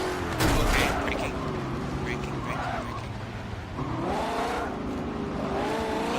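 A race car in Forza Motorsport 7 fitted with an angle kit, engine note swooping down under hard braking with tire scrub and squeal, loud and close, over steady engine drone.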